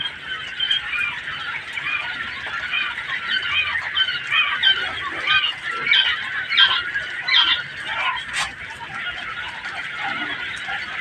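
Quail in a newly built homemade cage keep up a continuous busy chorus of close chirps and calls, with no talking.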